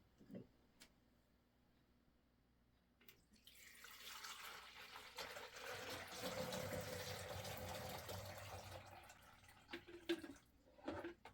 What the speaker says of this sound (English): let's go fill up the coffee pot